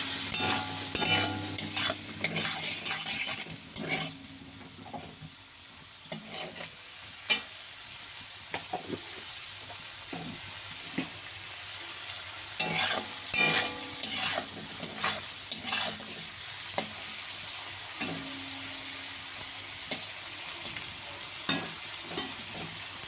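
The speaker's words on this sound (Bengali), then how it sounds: "দিয়ে দিচ্ছি চিংড়ি মাছের উপরে হলুদ আর দিয়ে দিচ্ছি লবণ দিয়ে চিংড়ি মাছগুলো আমরা ভালো করে ভেজে নেব।" Prawns coated in turmeric and salt fry in hot oil with a steady close sizzle, broken by frequent scraping clinks of a spatula stirring and turning them in the pan, with no talking.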